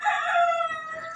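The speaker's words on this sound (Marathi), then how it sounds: "कोंबड्याला काहीतरी वरडायचं, आजार आहे काय किंवा काय सारखंच ओरडत आहे" A rooster crows alone in one sustained, strained call, close and fairly loud, the harmonics fading slightly toward the end.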